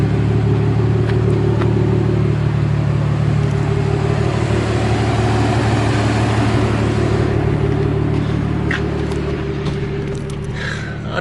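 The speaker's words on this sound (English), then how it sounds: "It sounds like a straight pipe, straight 6, straight pipe, straight 6." Toyota Supra straight-six with a straight-pipe exhaust, heard as a loud, steady deep rumble that holds close to the microphone for about eleven seconds before easing slightly toward the end.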